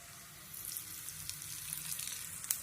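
Mustard and cumin seeds sizzling in hot oil, a faint crackling hiss with scattered small pops, soft and steady for a few seconds.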